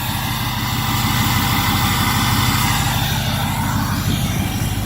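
A 2005 Ford F250 4x4 with a 6.0-liter Powerstroke diesel and aftermarket exhaust tip idles loud and close, a steady low rumble with rapid rhythmic clatter that holds even for the whole stretch.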